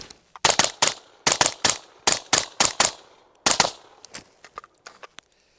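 Short bursts from an LMT SpecWar rifle with a 12.5-inch barrel, roughly a dozen loud, sharp shots fired in quick clusters of two to four, then a few faint clinks and rattles as firing stops.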